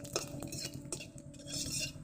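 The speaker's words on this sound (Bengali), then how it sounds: "আমি দিয়ে দেব দুটো তেজপাতা আর দুটো সাদা জিরা, নাড়িয়ে ছাড়িয়ে নেব।" A utensil stirs bay leaves and white cumin in a lightly oiled pan, making quick scraping and clinking strokes with a faint sizzle beneath, close and moderately loud.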